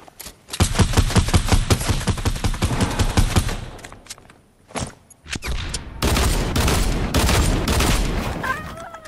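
Rapid automatic gunfire in the video game Fortnite, with dense bursts of shots for several seconds, a brief lull with a few isolated bangs, then another sustained, loud volley.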